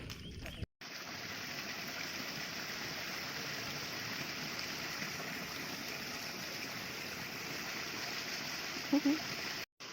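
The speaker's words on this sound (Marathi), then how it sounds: "मिनी धबधबा" Continuous rushing of water from a small waterfall, steady and fairly close, with a brief break near the start.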